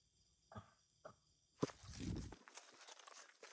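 Footsteps inside an abandoned school: a few separate soft steps, then a louder scuffing, crunching shuffle close by, with no voices.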